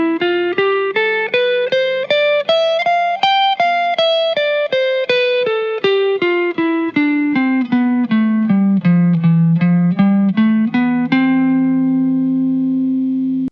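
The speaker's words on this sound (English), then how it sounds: "play the shape starting on my lower root, going all the way up to the highest note of the shape and then coming all the way down" Guitar single notes climb step by step up a C-shape scale from the low root to the highest note, then descend back down, each note plucked cleanly at a steady even pace and ringing alone, with the final low note held.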